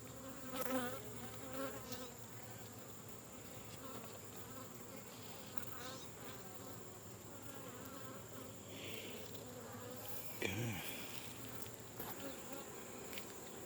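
Honeybees buzzing steadily and close during a beehive inspection, with the brood box open, a dense continuous hum holding throughout with a brief louder knock or handling sound near the end.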